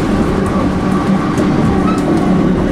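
Rumbling interior of a Strathclyde rail line train in motion, a steady loud drone with faint clickety-clack of the wheels on the track and no talk.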